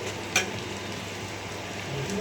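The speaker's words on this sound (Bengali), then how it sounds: "এই যে পেঁয়াজটাও ভেজেছি আমার একটু হালকা ব্রাউন হলেই" Onions frying in a pan give off a steady, soft sizzle, with one brief clink of a utensil near the start and no voices.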